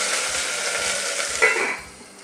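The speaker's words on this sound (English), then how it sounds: "So you can hear that it's really hot, sizzling away." Asparagus sizzling in hot oil in a pan, a steady loud hiss that runs throughout with a brief flare midway before easing slightly, no talk.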